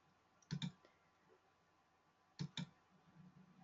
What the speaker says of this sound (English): I just double click the name on the side.